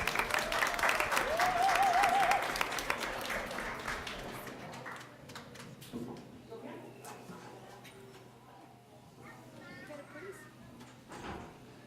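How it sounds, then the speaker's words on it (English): Audience applause at a school district board meeting, a moderate round of clapping that swells in the first few seconds and then thins out into scattered claps with quiet murmuring in the room. "you can give them a round of applause because they do look beautiful"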